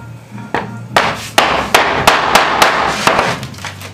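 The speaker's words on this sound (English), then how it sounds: "and AY is doing the chiseling as well" Chiseling wood to fit a kitchen gas cooktop, a series of sharp, loud hammer-on-chisel strikes at irregular intervals, about ten close knocks with a lingering scraping between them.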